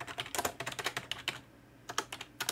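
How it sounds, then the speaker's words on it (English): Rapid, uneven bursts of keystrokes on a computer keyboard, close and crisp, with a short pause in the middle before the typing resumes; no one speaks. "I should check which language I'm supposed to be typing in."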